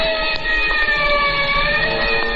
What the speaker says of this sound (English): And somewhere in the distance I heard a siren.